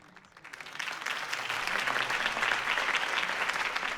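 Steady crowd applause in the video game Batman: The Telltale Series, building quickly from a quiet start into sustained loud clapping that continues throughout.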